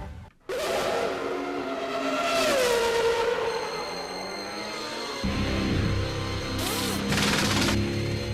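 Formula One race cars at the 1997 Monaco Grand Prix on the twisting streets of Monte Carlo, with loud, high engine whines whose pitch sweeps as cars pass, followed by a steadier stretch of sustained tones.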